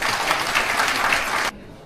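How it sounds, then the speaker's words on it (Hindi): A crowd gives loud applause for a guest at a municipal event in Kashipur, a thick, even roar of clapping that holds steady for about a second and a half, then stops sharply, leaving quiet room tone. "एक बार जोरदार तालियां इनके लिए बजाइए"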